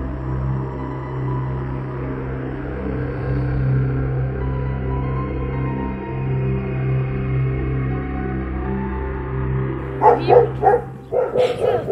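A dog barks several times in quick bursts near the end, close and loud, after a stretch of low rumbling background noise in a littered residential area of Chita.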